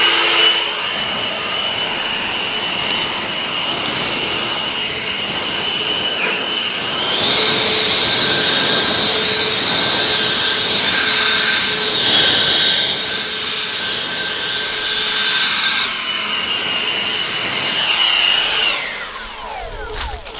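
An EGO Power+ LB6504 56-volt cordless leaf blower runs continuously with a loud, close whooshing whine that steps up in pitch midway as speed increases, then drops back before winding down at the end.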